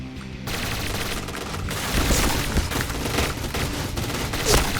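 Rifle fire in the shooter video game Point Blank, a dense, sustained rattle of rapid gunshots that starts abruptly and continues loud and continuous, with heavier booming shots mixed in.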